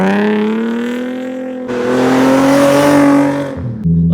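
A Nissan G37 with an exhaust fitted with resonators revs loudly and close by, holding a raspy drone that climbs higher and then drops back to idle near the end.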